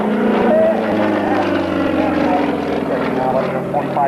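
An aerobatic airplane at a 1991 air show in Kissimmee, Florida, gives off a steady, loud propeller-engine drone through the whole stretch, with a voice talking over it.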